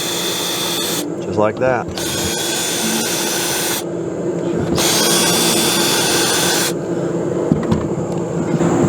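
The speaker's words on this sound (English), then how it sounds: "but get those screws out with the drill" Power drill backing screws out of an old Max Air roof vent, whirring in repeated bursts of a second or two with brief pauses and ratcheting clicks between, loud and close, with a short spoken remark.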